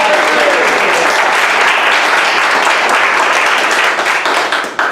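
An audience at a poetry and arts gathering claps loudly and densely in a sustained burst that fades slightly near the end.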